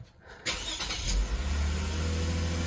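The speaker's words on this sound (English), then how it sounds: "Car starts" A 2013 Lexus IS250 engine cranks briefly after a battery replacement, catches with a sharp burst, then settles into a loud, steady idle heard up close.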